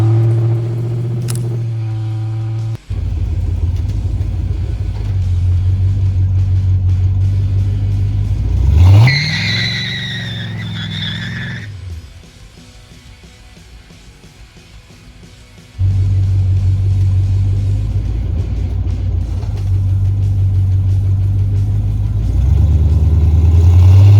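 An LS-swapped Chevrolet Caprice launches on the street, with a loud engine idle that rises into a sharp rev and acceleration, falls to a quieter stretch, then returns to a steady, close rumble that swells again near the end.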